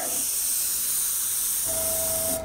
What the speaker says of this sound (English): I'm going to make sure we're spraying here